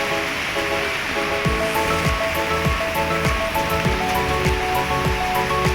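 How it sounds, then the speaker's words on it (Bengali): Rain falls heavily and steadily on an overcast evening, a dense continuous wash of drops close by with no voices. "আজকে বৃষ্টি চলে আসলো"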